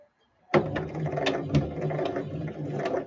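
Sewing machine stitching lace onto fabric: the motor starts abruptly and runs in a steady, rapid mechanical chatter of needle and gears, close and alone.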